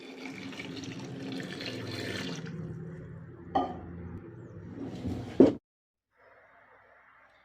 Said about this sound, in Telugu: ఉడకటానికి కావలసిన 1 లీటర్ వాటర్ పోసుకుందాం